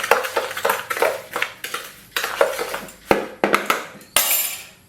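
A spoon scrapes and clinks against a bowl while brown sugar and pink curing salt are stirred together, in a steady run of gritty, crunchy strokes, close and alone.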